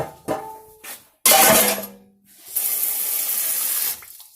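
Tap water runs into a pan being rinsed out after cooking eggs, with a few clanks and a splashing burst followed by a steady stream of running water, near and fairly loud.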